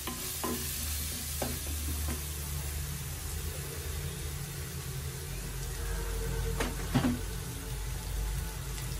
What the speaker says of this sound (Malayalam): എണ്ണ നന്നായിട്ട് തെളിഞ്ഞു വരുന്നുണ്ട് ഇനി നമുക്ക് പൊടികളെല്ലാം ഇട്ട് കൊടുക്കാം കുറച്ച് കറിവേപ്പിലയും കൂടെ ഇട്ട് കൊടുക്കാം